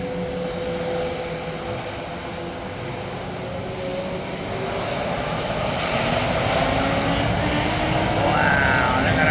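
Royal Brunei airliner departing on jet engines, an older, worn-looking aircraft, heard as a steady broadband roar that swells gradually louder toward the end, with a faint whine on top.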